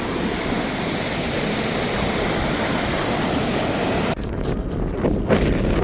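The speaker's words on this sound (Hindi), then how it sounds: "और इंडस नदी नीचे बह रही है।" The Indus River rushes far below a high mountain road in Ladakh, a steady, dense roar of flowing water that holds constant throughout, with buffeting wind on the microphone in the last stretch.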